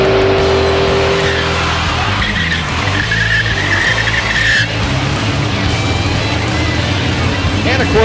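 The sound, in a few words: pickup truck racing down drag strip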